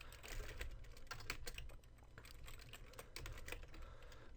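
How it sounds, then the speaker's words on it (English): Steady typing on a computer keyboard while writing code, a quick, close run of light key clicks with brief pauses and no talking. "so I just write return arg"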